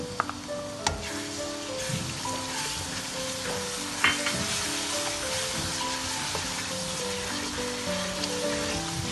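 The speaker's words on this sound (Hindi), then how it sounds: "अब इस स्टेज पे मैं ये दही भी डाल दूंगी।" Mutton trotters curry sizzles and fries steadily in a pot as yogurt goes in, a continuous close crackle with occasional stirring knocks and no talk.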